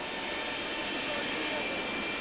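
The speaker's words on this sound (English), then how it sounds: "Very difficult with those jet plane engine noise." Jet aircraft engines roar loudly and steadily at Fort Simpson, Northwest Territories, during the 1987 papal visit, a continuous broadband whine with muffled voices beneath.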